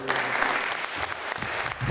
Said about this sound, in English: let me ask the audience to give a round of applause for all of those who are not with us today